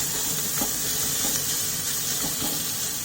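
Sliced onions frying in hot oil for chicken biryani, a steady close bright sizzle and hiss with faint bubbling, no voices.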